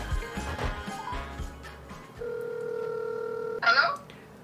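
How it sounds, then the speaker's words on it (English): A folding phone places a call: a short tapping and handling, then a steady electronic dial tone held for over a second, followed by a brighter chirping tone burst, close and clear. "A little fun thing that you can do on this phone is you can call someone."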